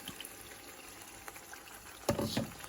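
Water is poured into a blender jar to rinse out leftover chutney paste, a brief splashing gush near the end after quiet kitchen background sounds with a few small clinks.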